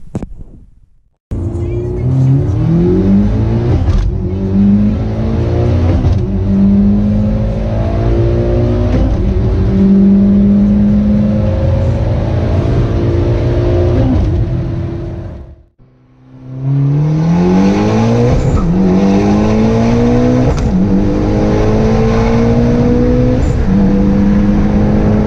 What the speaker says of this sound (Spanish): vamos a ir de nuevo a probar a ver cómo sentimos el carro